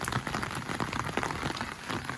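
Dense, steady patter of rain drumming on a taut surface close by, like drops striking an umbrella overhead, with no voices.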